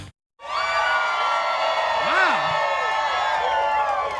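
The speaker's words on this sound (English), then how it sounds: "this is a great crowd here at Cedar Street Courtyard in Austin, Texas" Crowd at Cedar Street Courtyard in Austin, Texas, cheering and shouting in a sustained mass of voices after a brief silence, loud and steady throughout.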